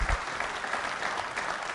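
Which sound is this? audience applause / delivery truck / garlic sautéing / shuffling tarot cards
audience applause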